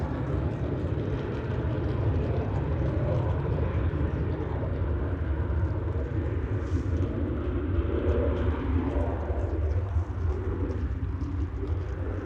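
Ryanair Boeing 737-800 jet taking off at Manchester Airport, a continuous broad engine rumble and roar heard from a distance, steady throughout.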